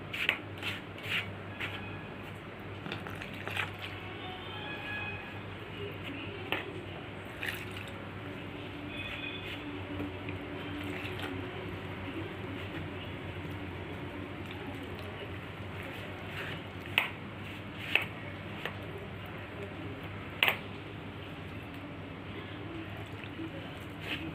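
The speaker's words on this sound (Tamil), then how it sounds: "இப்போ கொஞ்சம் கொஞ்சமாக தண்ணி ஊற்றி பிசைஞ்சிக்கலாம் நம்ம" Maida flour dough being kneaded by hand with water for plain paratha, giving soft wet squishing and occasional small sharp slaps and clicks over a steady low background hum.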